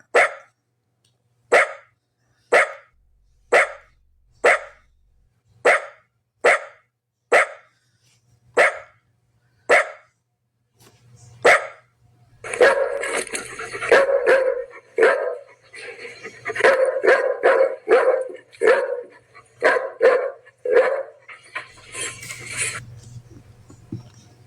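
A dog barks in a steady series of single loud, close barks roughly once a second, then breaks into a dense, rapid flurry of overlapping barks and yips with background noise.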